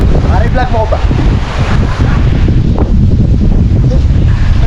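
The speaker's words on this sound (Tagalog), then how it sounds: "Lakas ng alon mga boss." Loud, constant roar of strong ocean surf and wind buffeting the microphone in La Union, with brief voices early on under the rushing water.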